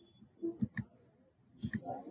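A computer mouse clicks while navigating Microsoft Word, with two quick pairs of crisp, close clicks about a second apart and faint background murmur.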